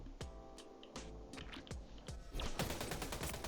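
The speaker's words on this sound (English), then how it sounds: "I'm going to try to shoot at him." Rapid gunfire rings out in the shooter game Splitgate 2, a run of sharp, close shots in quick bursts that merges into a dense, sustained volley near the end.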